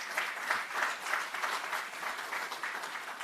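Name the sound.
audience applause at awards ceremony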